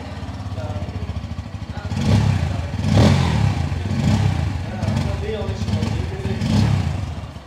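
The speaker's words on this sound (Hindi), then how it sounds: "सबसे पहले आपको N160 का साउंड आपको सुना देता हूँ।" Bajaj Pulsar N160 motorcycle exhaust, a steady engine note that swells with several rev blips, heard close and loud; a voice speaks over it.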